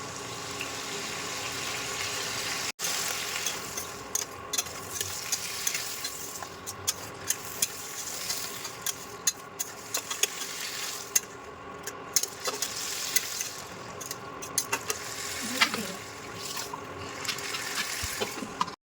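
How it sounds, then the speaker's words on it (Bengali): Eggplant and potato frying in a pan with salt and turmeric, a steady close sizzle broken by frequent light clicks and scrapes of stirring, with no talk. "বেগুন আর আলুটা অলমোস্ট কষানো হয়ে গেছে।"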